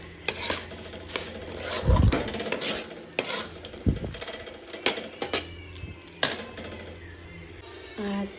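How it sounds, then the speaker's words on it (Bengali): Chorchori with mustard paste and fish head cooks in a pan, with a low sizzle under repeated spoon scrapes and clinks against the pot and a couple of louder thumps. "এখানে চচ্চড়ি করছি সর্ষে বাটা দিয়ে,"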